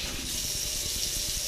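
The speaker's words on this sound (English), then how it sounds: "You don't hear any sink sound at all. You just hear water." Water streams steadily into an insulated stainless steel double-bowl workstation sink, a smooth even hiss with no metallic ring, close and continuous for a brief moment.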